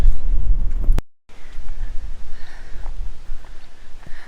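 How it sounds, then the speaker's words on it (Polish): Steady wind rushing across an open outdoor microphone, rumbling and gusting continuously after a brief dropout near the start. "Wiatr hula."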